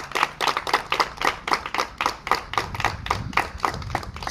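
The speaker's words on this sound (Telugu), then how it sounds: "ఒకసారి అన్నేవాళ్ళందరికీ గట్టిగా క్లాప్స్ కొట్టి వెల్కమ్ చెప్పండి అమ్మా" A crowd of students and staff at a college social-impact event claps together in welcome, producing a steady, rhythmic burst of hand claps that stays fairly close and loud throughout, with no talk over it.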